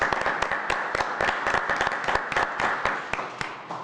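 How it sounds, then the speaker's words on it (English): Applause fills a board meeting room, dense steady clapping from many hands at a moderate level with no voices over it. "I'd just like to give her a round of applause for"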